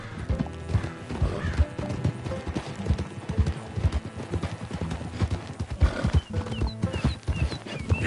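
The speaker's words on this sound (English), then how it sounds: "It's just a donkey," A donkey in Red Dead Redemption 2 clops along on hooves in a brisk, uneven rhythm for several seconds, with loud braying calls breaking through near the end.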